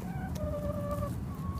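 Backyard chickens cluck near a beekeeper rendering brood comb wax outdoors, a short run of drawn-out, wavering calls heard over steady low background rumble, with no one speaking.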